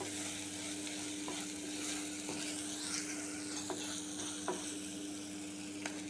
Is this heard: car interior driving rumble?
no